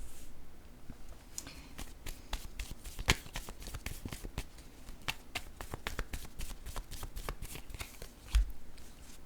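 Tarot cards shuffled and drawn by hand, a steady run of crisp riffling snaps and soft slides close by, with one sharper slap near the end, no talking.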